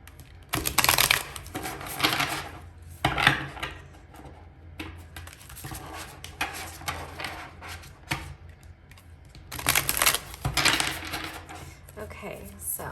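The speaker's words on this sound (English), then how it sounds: "I'll just shuffle on camera for a second" A tarot deck is shuffled in close bursts of riffling and flicking cards, separated by quieter gaps with soft handling noises.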